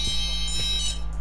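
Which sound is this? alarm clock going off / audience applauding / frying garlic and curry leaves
alarm clock going off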